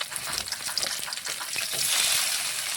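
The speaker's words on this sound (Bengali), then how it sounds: "আবারও উল্টে কিন্তু তেলের মধ্যে দিয়ে দিচ্ছি।" Rohu fish pieces frying in hot oil after being turned, a close, continuous hiss and crackle that swells slightly louder toward the end.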